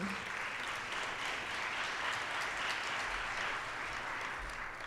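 Graduation ceremony audience applauding steadily for the full stretch, a dense, even wash of clapping from a crowd with no voices standing out.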